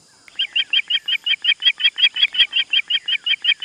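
A cartoon character's voice imitates a bird's call, giving a fast, evenly spaced run of about eighteen bright chirping notes, loud and close, with no other sound around them.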